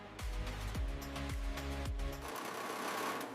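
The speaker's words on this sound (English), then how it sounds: "Flat lock stitching creates smooth seams that reduce friction against skin." Flatlock sewing machine stitching football jersey seams in a factory, a loud continuous mechanical whir with rhythmic repeating strokes that shifts to a higher, thinner running hum partway through, close up and without voices.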